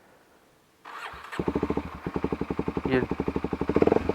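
A Kawasaki Ninja 250SL motorcycle engine cranks and catches, then settles into a loud, throbbing idle with a steady pulsing rhythm; a brief word is spoken at the start.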